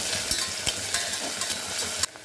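Onion, curry leaves and spices with cloves, cinnamon, stone flower, bay leaf and ginger fry in hot oil for wheat rava kichadi, a steady close sizzle broken by scraping and stirring taps.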